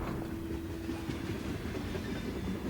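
A steady rumbling train ride, a continuous dense roar of wheels and carriages with faint clattering and a brief sustained tone near the start, used as a sound effect for a train journey to the Eastern Front.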